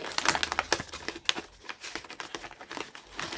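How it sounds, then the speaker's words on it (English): Rustling and crinkling of a reusable plastic bag as toolkit items and trays are pulled out one by one, close and fairly loud, with irregular crackling bursts and small tearing-like scrapes and no talking. "So let's go ahead and look at this toolkit, which comes in a reusable plastic bag. So we're just going to take everything out"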